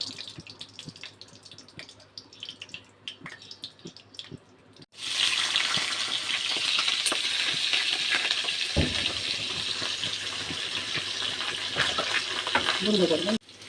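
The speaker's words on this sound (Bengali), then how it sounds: "কড়াইয়ের মধ্যে আমি সাদা তেল দিয়ে দিলাম" White cooking oil goes into a wok and heats, breaking into a loud, steady sizzle that starts abruptly midway and continues close up, after a quieter stretch of kitchen sounds and some talk.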